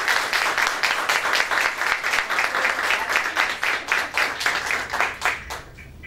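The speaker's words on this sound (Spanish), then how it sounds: "un aplauso desde acá para que escuches el" A crowd applauds steadily, dense clapping filling the space for several seconds before tapering off slightly at the end.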